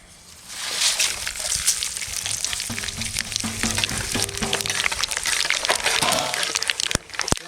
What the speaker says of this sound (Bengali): ফোড়নে দেবো শুকনো লঙ্কা গোটা জিরে তেজপাতা গোটা গরম মশলা